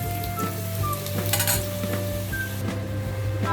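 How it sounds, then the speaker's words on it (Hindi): Potatoes sizzle and fry steadily in hot oil in a kadai, a continuous close crackle with occasional light clinks of a utensil against the pan. "फ्राई करने से बहुत ही बढ़िया सॉफ्ट हो जाता है।"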